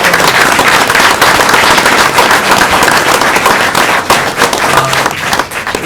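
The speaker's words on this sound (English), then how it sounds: "Let's give these guys a round of applause." A town board meeting audience applauds, dense sustained clapping filling the room for several seconds at steady loudness, thinning slightly near the end.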